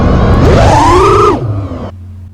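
FPV drone motors oscillate from a very high P gain in Betaflight: a loud, buzzing whine rises in pitch, wavers, then drops away, leaving a low steady hum; harsh and oscillating, close up.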